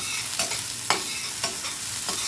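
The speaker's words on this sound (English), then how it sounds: "Let's stir fry some of our onions first." Onions stir-fry in a pan for ham fried rice, a continuous close sizzle broken by four spatula scrapes at roughly even half-second intervals, with no voices.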